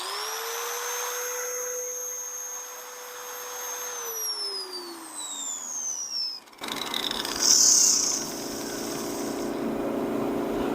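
A handheld grinder touching up the worn edge of a John Deere snowthrower blade, a steady whining motor that holds pitch, then sags as it bites into the metal, followed by a brighter rough grinding burst, close and loud.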